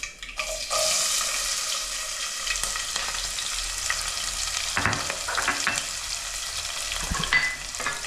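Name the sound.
onion pieces frying in a pan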